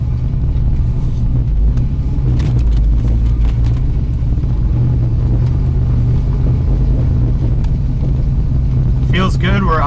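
A 1968 Mercury Cougar drag car engine idles with a steady low rumble throughout, a brief higher whine surfacing near the end.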